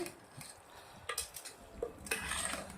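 A spoon stirs Korean masala pulao with soy sauce and chili sauce in a metal pot, making close, irregular scraping and clinking strokes, quiet and without talk.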